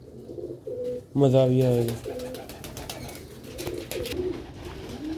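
Pigeons coo in a close, loud burst of warbling calls, with softer coos before and after and a voice talking over the birds.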